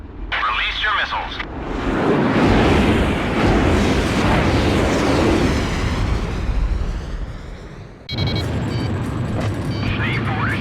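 Missile strikes and explosions roar in the Ace Combat Zero flight game, a heavy sustained rumble building and holding for several seconds amid jet noise, with radio voice chatter before and after.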